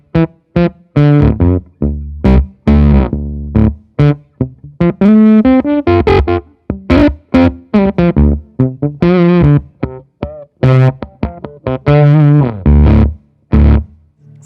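Electric guitar played on the neck pickup through a fuzz pedal, thick and distorted, with strummed chords and single notes in a steady, loud run of phrases alone without talk.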